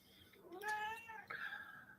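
A house cat gives a drawn-out, rising and falling meow followed by a second shorter meow, close and clear in a quiet room.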